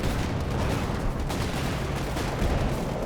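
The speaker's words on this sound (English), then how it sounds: "Comes the glider and the mortar cover." Mortar fire and battle noise from the real-time strategy game Company of Heroes 2 in a 2v2 match, a dense continuous barrage of booming shots and crackling gunfire with no pauses.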